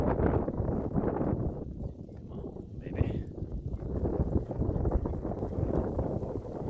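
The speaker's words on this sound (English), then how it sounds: "As you can see, it was really windy." Strong wind gusts buffet the microphone of an autonomous sailboat drone on the water, a heavy, continuous low rumbling roar with surging gusts throughout.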